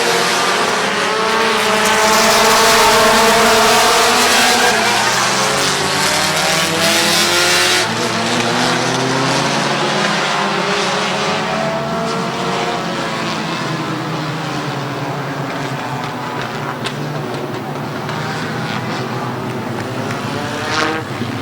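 Race cars roaring around Midvale Speedway at the fall classic, a loud continuous engine drone with rising and falling pitch as cars sweep past, slowly fading.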